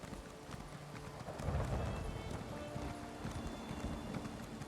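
Horse hooves clip-clop steadily as a mount sets off in the Elder Scrolls Online game world, with a soft ambient bed underneath and a brief louder thump near the start of the ride.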